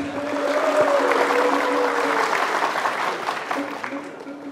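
Studio audience at a Balinese quiz show semi-final clapping steadily, dense and sustained applause that holds for several seconds then gradually thins, with a faint voice and tone beneath it.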